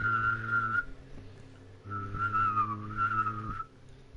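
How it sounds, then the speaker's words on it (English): One person hum-whistling, humming and whistling at the same time, a clear whistled melody riding over a steady hummed drone, close to the mic in two phrases split by a short break. "you can hum and whistle at the same time to, like, do hum whistling"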